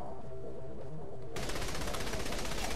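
Rapid automatic gunfire erupts partway through a Saints Row The Third shootout, a loud sustained burst of shots following a quieter stretch of game background.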